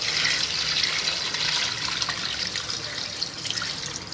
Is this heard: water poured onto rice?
yes